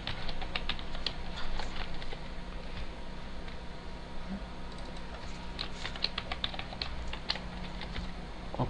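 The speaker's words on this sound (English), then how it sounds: "You type the password" Quick, light clicks of a computer keyboard as a password is typed, irregular bursts of keystrokes close and faint over a low steady hum.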